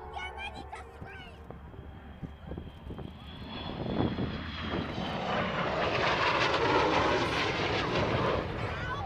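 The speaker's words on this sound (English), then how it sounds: "So here she is, Avro Vulcan," An Avro Vulcan XH558 jet bomber flies past in the open air at around 345 mph, its engine roar building from a distant rumble into a loud, broad, sustained sweep under a commentator's voice.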